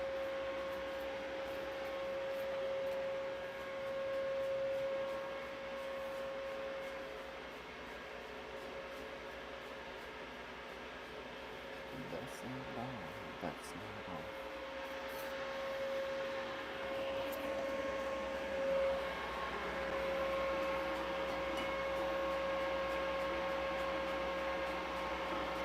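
Thunder Laser engraver running a Rotoboss Jr rotary while engraving a cup: a steady mechanical hum with a constant whine and a brief clattering stretch midway, heard alone without talk.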